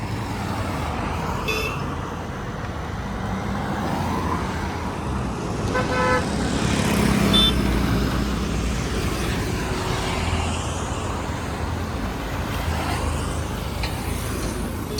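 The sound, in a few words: road traffic and car horns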